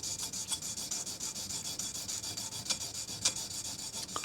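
Steady back-and-forth rubbing of a flattened blade back on a 1000 grit sharpening stone, a continuous near rasping scrape with a few sharper strokes, no talk.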